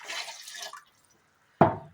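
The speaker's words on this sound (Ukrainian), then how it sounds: "До води я відправляю уксус," Liquid pours into water in a kitchen: a short hiss and splash of 9% vinegar going into the water for a pepper marinade, followed by a brief pause and a sharp, close splash as more liquid is added.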